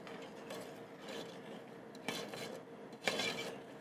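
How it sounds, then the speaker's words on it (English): A pan clatters softly on the stove while butter melts: faint metallic knocks and scraping, with two sharper clanks near the end. "I'm just getting this butter melted in here."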